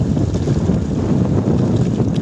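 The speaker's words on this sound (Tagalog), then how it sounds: "Lakas ng hangin. Sobrang lakas ng hangin." Strong wind roaring across a small fishing boat at sea in rough weather, a loud, steady buffeting rush over the microphone with low rumbling, no talk.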